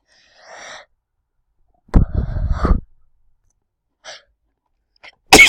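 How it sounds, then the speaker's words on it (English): A person sneezes several times while playing Gmod Sandbox, with a loud burst near the middle, short faint bursts around it and a sharp sneeze at the very end. "I don't know why I'm sneezing a lot"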